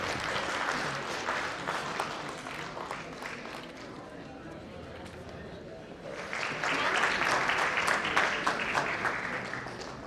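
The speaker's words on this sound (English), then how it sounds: "A big clap for Dr. Girish Chauhan." Sustained applause from a conference audience honoring a doctor at a sports and exercise medicine event, steady dense clapping that swells louder and fuller in the second half, with a voice speaking over it.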